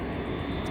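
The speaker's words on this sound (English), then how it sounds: "Fucking planes." An airplane passing overhead gives a steady, loud engine roar that fills the whole brief moment without a break.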